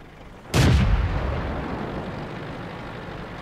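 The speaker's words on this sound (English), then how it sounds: "He's shooting right behind me." A tank cannon fires in World of Tanks, one loud, sharp boom followed by a long rumbling decay, heavy and close, with no talk.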